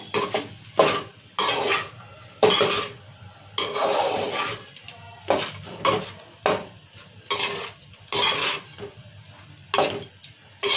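Lemon rice with peanuts and chillies being mixed by hand in a pot, giving repeated scraping stir strokes in an uneven rhythm with clinks of utensil against metal, fairly close and clear with no talking.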